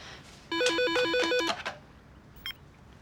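A telephone rings during a call with a loud, rapid warbling electronic trill lasting about a second, followed by a brief faint chirp.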